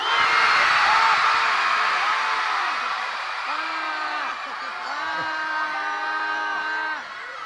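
A crowd of children shouting and yelling loudly together, a sustained noisy chorus of raised voices with rising whoops throughout.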